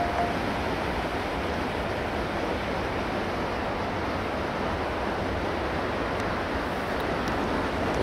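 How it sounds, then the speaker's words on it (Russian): Water released over the Volkhov hydroelectric dam, a modest discharge, makes a steady, unbroken rushing roar that holds an even level throughout, with no voices. "Конечно, хотелось бы, чтобы сброс воды был зрелищнее и больше."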